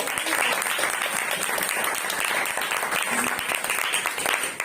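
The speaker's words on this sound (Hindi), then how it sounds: "जोरदार तालियों के साथ" A church congregation breaks into loud applause, dense and sustained clapping from many people that holds at full strength throughout.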